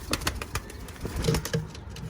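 Rapid rustling wingbeats of a pigeon flapping close by, with a couple of soft low coos near the end.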